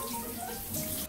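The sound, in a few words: water running while showering a puppy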